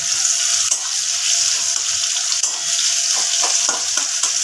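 Onion pieces sizzle steadily in hot oil in a pan for a spiced egg curry, a close, continuous frying hiss broken by a few brief stirring scrapes, with no talking.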